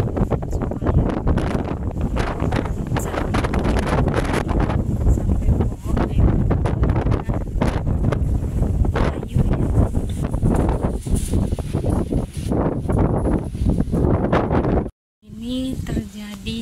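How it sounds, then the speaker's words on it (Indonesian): Strong wind blowing outdoors in rainy, stormy weather, a loud continuous roar of buffeting gusts against the microphone that drops out briefly near the end. "Anginnya sangat kencang sekali ya, dan kemungkinan sampai besok ya."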